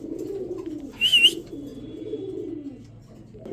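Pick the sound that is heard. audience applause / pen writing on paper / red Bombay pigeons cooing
red Bombay pigeons cooing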